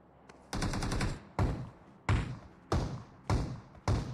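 Gunfire in the video game Farlight 84, six loud bursts of shots at regular intervals, each a close, punchy volley with a short decaying tail, and no talking over it.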